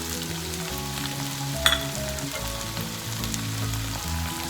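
Vegetables fry on high heat for a Singapore rice recipe, giving a constant close sizzle with a brief sharp clink of a utensil and stirring throughout.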